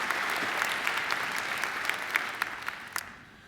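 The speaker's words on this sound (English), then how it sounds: "So I think Dr. Preston deserves another great round of applause." A university graduation audience claps for a speaker, a dense, even round of applause that holds steady and then thins out and fades away near the end.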